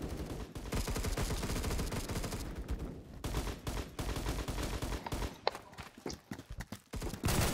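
Gunfire in the online shooter video game Phantom Forces: dense bursts of rapid automatic shots with brief pauses, then scattered single cracks near the end, loud and close.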